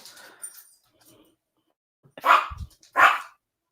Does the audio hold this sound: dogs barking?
yes